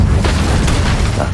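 Incendio fire spell cast in the Hogwarts Legacy video game, a loud, sustained roaring blast with crackling bursts lasting over a second.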